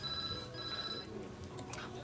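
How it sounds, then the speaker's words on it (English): A telephone rings with a steady electronic tone, moderately loud, while faint indoor background noise continues. "The phone."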